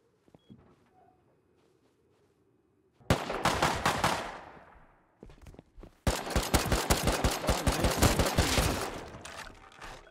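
Rapid automatic gunfire in a survival video game, heard loud and near in two long bursts split by a short gap, each a dense chain of sharp shots that runs until the ammunition is spent, after a quiet start.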